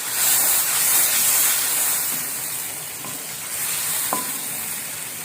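Garlic, ginger and green chili paste sizzles in a hot pan for a chicken and spinach curry, giving a steady loud hiss of frying with light stirring and a faint clink of a utensil, close up and without voices.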